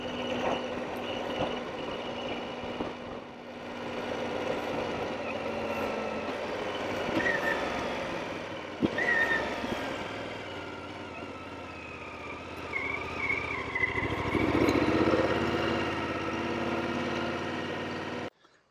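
A BMW F750GS motorcycle engine hums steadily while riding, its pitch rising and falling with throttle and little engine braking, alongside rushing wind noise.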